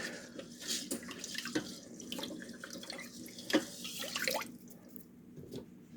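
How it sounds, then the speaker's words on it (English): Two cups of water pour from a container into a rice cooker pot, a steady close trickle and splash with a few brighter drips and clinks near the end. "I'm gonna add 2 cups of water, and I will just stir it with my fingers."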